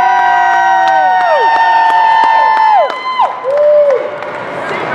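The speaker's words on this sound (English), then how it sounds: "Huge round of applause for your coaches." A crowd at a volleyball tournament championship cheers and applauds for the coaches, with whoops and shouting over steady clapping and a high sustained tone sweeping through the noise.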